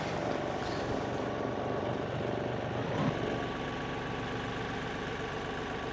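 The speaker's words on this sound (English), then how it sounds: "And I'm gonna move the tractor." A tractor engine idles steadily nearby, a constant low rumble with mechanical drone that stays even throughout, with no talk over it.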